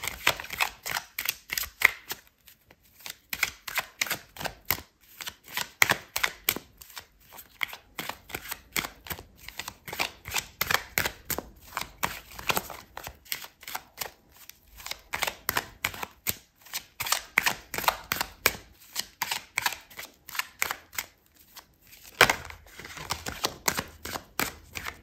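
Tarot cards being shuffled and riffled at close range, a long run of quick, crisp paper flicks and snaps in dense bursts with brief pauses, no talk.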